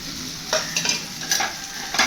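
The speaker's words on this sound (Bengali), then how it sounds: "সম্বর মশলা দিয়ে ভালো করে ভেজে নিয়েছি" Turmeric and sambar masala fry and get stirred in a pan for vegetarian sambar dal, giving a steady sizzle broken by several scraping stirs, close and moderately loud, with no talking.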